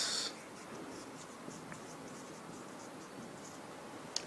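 A line drawn on a classroom board during a physics lesson, a soft, continuous scratchy rasp of marker or chalk with a few faint taps, quiet and steady.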